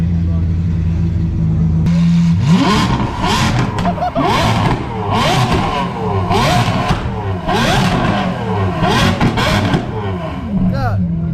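JDM drift car engine revved hard in a garage, repeated loud bursts rising and falling in quick succession, with voices and crowd chatter mixed underneath.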